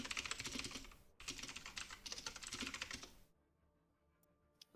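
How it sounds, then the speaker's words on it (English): A computer keyboard clatters with fast, dense typing during an online Space Force gaming tournament, loud and continuous for about three seconds, then stops, leaving quiet room tone with a faint click at the end. "So many buttons being pressed."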